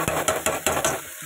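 Chopped onion and spices fry in a pan with garlic, a loud close hiss punctuated by about five rhythmic scraping stirs before the sound thins out at the end.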